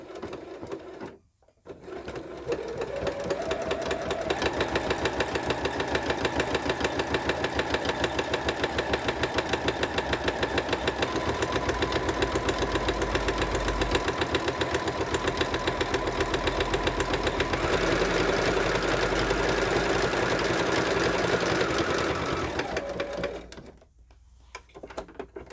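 Sewing machine stitching a vinyl panel into a project bag with a back stitch at each end, a close, steady rapid mechanical chatter running for about twenty seconds between brief quiet pauses.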